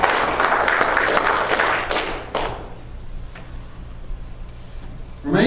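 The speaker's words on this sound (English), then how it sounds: "Give the Lord a hand clap of praise." A church congregation claps in praise, a dense burst of many hands that carries for about two seconds and then fades away, leaving quiet room tone and a few scattered taps.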